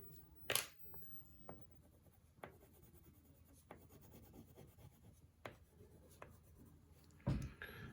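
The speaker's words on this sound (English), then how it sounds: "go back over things with a pencil if you need to" Soft scratching of a pencil on paper while drawing, faint and close, with intermittent strokes and a few light taps.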